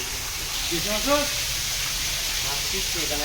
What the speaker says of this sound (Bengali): এই দেখেন আমরা অক্সিজেন দিয়ে মাছগুলো অক্সিজেন প্যাকেট করা হচ্ছে